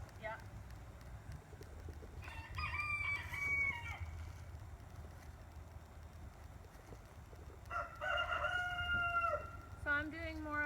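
A rooster crows twice, several seconds apart, over a low rumbling background with faint voices.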